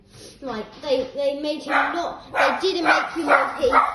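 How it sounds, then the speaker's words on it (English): A pet dog barks in repeated short bursts near the microphone while a person keeps talking over it. "I'm sorry that my dog is barking."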